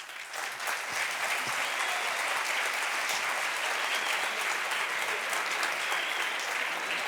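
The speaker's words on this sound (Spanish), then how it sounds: "gracias por los aplausos" Sustained audience applause fills the hall at an economic forum in Andorra, a steady, even wash of clapping from many people at constant loudness throughout.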